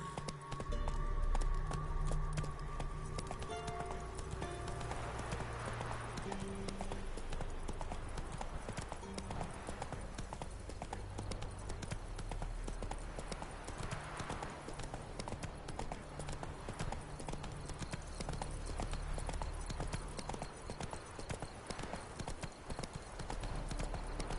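Horse hooves clip-clop at a steady galloping rhythm in The Witcher 3 video game, loud and close throughout, layered with ambient game music and background sound.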